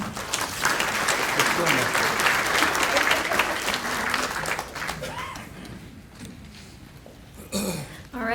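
An audience at an evening healthcare-system event claps to welcome its speakers, a full, steady round of applause that fades and thins out toward the end, with scattered murmurs and a throat clearing afterward.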